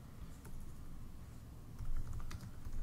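Computer keyboard typing, rapid irregular keystrokes close by while text is entered into color-proofing software for an Epson Stylus Pro printer, clattering steadily for about three seconds with no voices.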